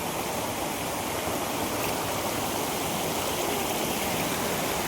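Constant, dense roar of Mahogany Falls, a waterfall in Dingalan, Aurora, heard close and loud without pause or voices.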